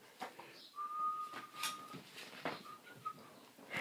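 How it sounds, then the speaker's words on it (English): Someone whistles a sustained tune with a long held note and a few shorter notes, fairly quiet, with faint rustling underneath. "I have a bad habit of whistling."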